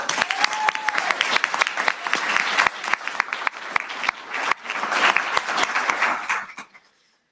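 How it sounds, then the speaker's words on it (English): A school audience applauds student athletes at a Yukon Public Schools event, lively clapping with crisp individual claps and a rising swell before stopping abruptly. "let's give them a round of applause"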